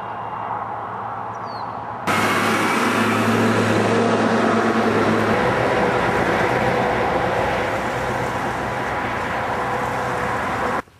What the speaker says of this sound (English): Driving alongside the train.